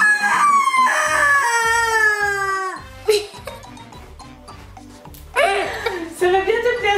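A toy hen from the board game Patoucha Poulette lets out loud, drawn-out squawking and clucking calls in two bursts with a pause between, heard close up alongside a speaking voice.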